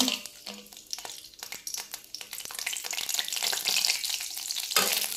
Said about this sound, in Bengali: এবার নাড়িয়ে দেব এবার ভাজা হতে থাক